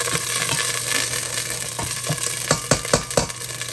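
Green pepper sizzles and fries in a pan, a steady hiss with a few sharp clattering stirs near the end, close and with no voices.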